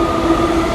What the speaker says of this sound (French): il y en a pour une demi-heure de RER